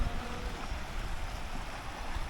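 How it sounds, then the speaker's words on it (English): Waterfall on a hike to Formarinsee in the Austrian Alps, a steady broadband rushing roar of falling water at moderate distance, continuous and without voices. "Got a little bit closer to the waterfall."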